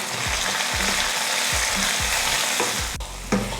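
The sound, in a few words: onion and tomato sautéing in a pan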